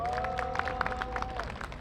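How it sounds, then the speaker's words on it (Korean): Crowd at an outdoor labor rally against coal power plant closures claps to welcome allied groups arriving with flags, a steady patter of applause under a sustained musical tone and background voices. "박수 부탁드립니다."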